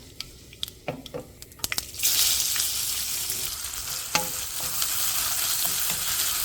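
Onion, garlic and curry leaves drop into hot oil with asafoetida: a few light clicks and stirs, then a loud burst of steady sizzling that keeps crackling close by, with occasional stirring knocks and no speech.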